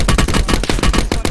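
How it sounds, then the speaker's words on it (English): Rapid automatic gunfire in the Call of Duty Blackout video game, a loud close burst of about a dozen evenly spaced shots. "Where is this other guy that's shooting at me from?"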